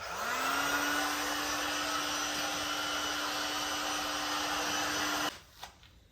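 Heat gun drying water from the recesses of a Cupra Ateca front bumper before vinyl wrapping: a loud, steady whine and blowing roar that rises in pitch on startup, holds for about five seconds, then cuts off abruptly.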